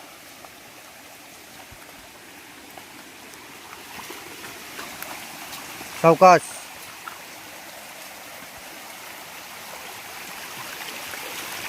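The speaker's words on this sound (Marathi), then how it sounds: "इथे छोटासा वहाळ आहे, वहाळाला पाणी आहे।" A small stream flowing through a Konkan forest: a soft, steady wash of running water throughout, with a brief spoken word near the middle.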